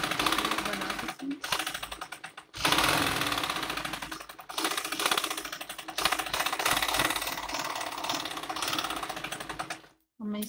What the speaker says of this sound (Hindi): मैं इसमें ऐसे ही पूरे में जितनी भी चौड़ी मेरी बुकरम है ऐसे ही सिलाई लगा के इनको कंप्लीट कर लूंगी।